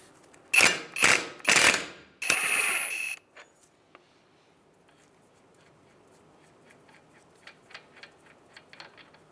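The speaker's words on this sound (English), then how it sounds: "we'll go ahead and back this nut off" A ratchet backs off a 36 mm axle nut on a 2007-2015 Mazda CX-9 during a driver's side CV axle replacement, giving three or four loud, close bursts of clicking and grinding over the first three seconds, followed by faint scattered ticks and taps.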